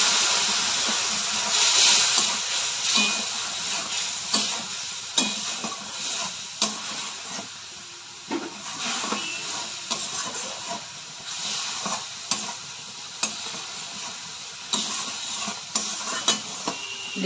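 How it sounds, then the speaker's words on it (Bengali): Spice paste for a katla fish curry stirred and frying in a pan, a steady sizzling hiss broken by regular scraping strokes of the spatula, close and fairly loud with no talk. "দেখুন বন্ধুরা, আমার মশলা কষানো হয়ে গেছে"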